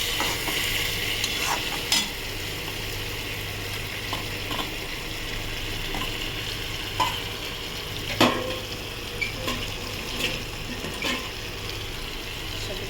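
Fish for a curry sizzles steadily while being sautéed in a pan, with occasional scraping spatula strokes and light clinks over a constant frying hiss.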